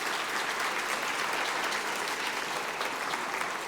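An audience claps in sustained applause to welcome a guest onto the stage, a dense, steady wash of hands that holds at an even level throughout, with no voices above it.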